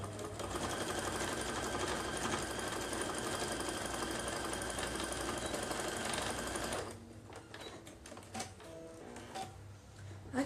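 Sewing machine stitching the seam of a fabric notebook cover, a loud steady motor whir with rapid needle chatter running for about seven seconds, then stopping and leaving quieter handling sounds.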